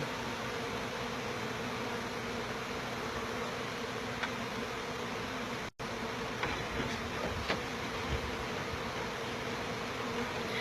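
Honeybees buzz in a dense, constant drone while a live hive is cut out of a house soffit and the bees cluster on a frame. The swarm sounds close and steady, with only a brief dropout partway through.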